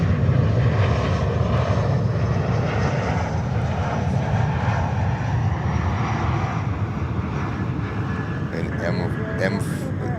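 An airplane at JFK airport in New York gives a loud, continuous engine roar that holds steady across the whole stretch, close and dominant, with a slight easing toward the end.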